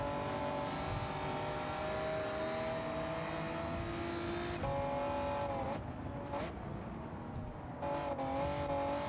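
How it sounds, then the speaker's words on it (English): A Porsche races in Gran Turismo 7 on the Tokyo Expressway, its engine droning and revving steadily with a few sharp exhaust pops and backfire crackles breaking through in the latter half, loud and close, with no talking. "love the backfire from the Porsche"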